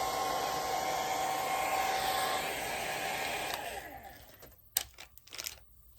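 A hair dryer blows steadily on a fresh coat of paint on a Dollar Tree craft piece, then cuts off after about four seconds, leaving a few soft clicks and handling noises.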